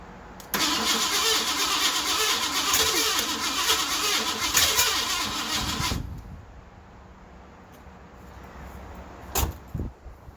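A Ford LTD V8 with a freshly installed camshaft cranks loudly and steadily for several seconds, then stops without catching, followed by quieter clunks and a couple of sharp knocks.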